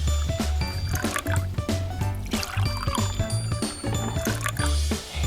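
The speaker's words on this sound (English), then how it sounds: "you're going to slowly pour the water in the bowl" Blue-dyed water poured slowly into a bowl for homemade playdough, a close, steady liquid splash and trickle running continuously under light background music.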